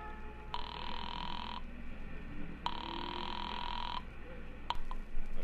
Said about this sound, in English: dropped the nickel in and dialed Republic 2809 again